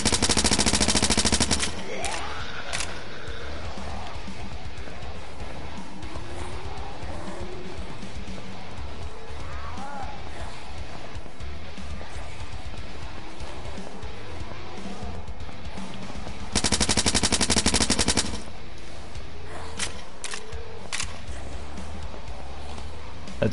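Gunfire in the zombie shooter game Blood Waves, with a dense run of rapid shots at the start and another burst near the end, separated by a long stretch of steady game noise.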